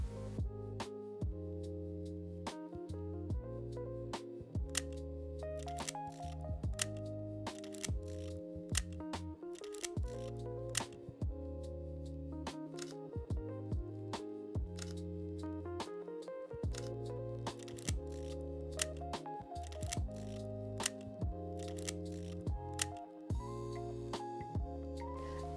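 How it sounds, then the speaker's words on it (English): Sharp clicks from the aperture ring of a Leica 35mm Noctilux lens, sounding in irregular bursts as the ring is turned, close and crisp over steady background music. "The aperture ring feels smoother, but the clicks are more pronounced."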